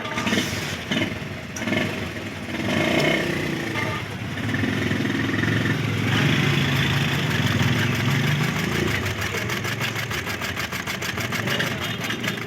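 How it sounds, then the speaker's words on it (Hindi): A sewing machine runs a test seam after its bobbin case has been fixed to stop it slipping out. The steady, loud mechanical whirr continues for the whole stretch, with rapid ticking stitch beats toward the end. "तो अब हम इसकी सिलाई लगा कर चेक कर लेते हैं"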